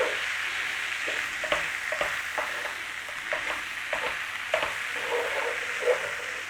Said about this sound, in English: So we're going to put that sausage meat back in there. Give that a little stir through.